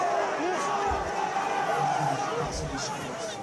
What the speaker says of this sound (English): Big shout from the crowd saying no,